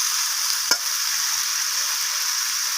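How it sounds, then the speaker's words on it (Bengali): Fried potato, cauliflower and beans in a kadai give a steady, close hiss of frying, broken once by a single sharp knock of the stirring spoon against the pan, with no talking. "আলু, ফুলকপি আর বিনস কড়াই নাড়াচাড়া করে এইভাবে সমস্ত কিছু সবজি আমি কষিয়ে নিচ্ছি"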